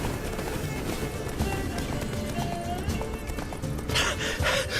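Roach, Geralt's horse in The Witcher 3: Wild Hunt – Blood and Wine, gallops with steady clip-clop hoofbeats under game music, a brief whinny-like burst near the end.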